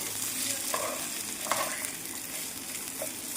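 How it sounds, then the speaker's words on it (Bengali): Rice being fried in a pan, a dense, even sizzle close by with a few soft stirring scrapes, steady and alone without talk. "এবার দিয়ে দেব চালটা, এটা দিয়ে ভেজে নিতে হবে।"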